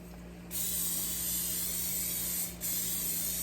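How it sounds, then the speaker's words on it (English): A steady hiss of an aerosol spray held for about two seconds, stopping briefly, then spraying again over a faint low hum. "Just some cooking spray"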